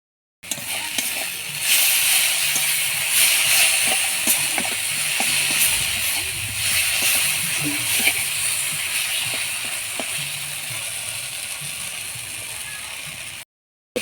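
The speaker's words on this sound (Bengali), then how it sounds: "অল্প জল দিয়ে মশলাটা কষে নেব। মশলাটাকে ভালো করে কষে নেব।" Spice paste fries with a little water in a pan, giving a steady close sizzle and hiss with occasional stirring clicks.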